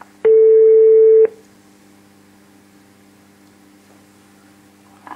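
A single loud, steady telephone tone during a call lasts about a second, then gives way to a faint hum of line noise for several seconds. A tiny click comes right at the end.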